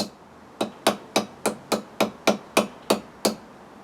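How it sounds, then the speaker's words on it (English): A hammer taps an axe head eleven times in a quick, even rhythm, driving in the wedge, each strike sharp and close with a brief ringing decay. "I will give it another little tap with a hammer"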